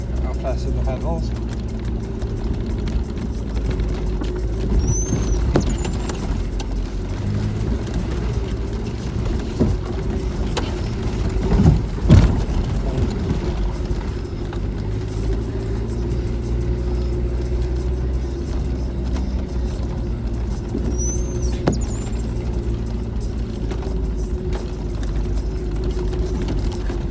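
A car crawls off-road in first gear on a North Wales green lane, its engine a steady low rumble at idle with no pedal input, plus occasional creaks and mechanical clunks from the body and drivetrain.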